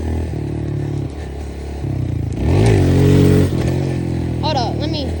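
A dirt bike engine revs through several throttle blips as the rider warms up for wheelies, the motor climbing to a louder peak midway before settling, with someone talking over it.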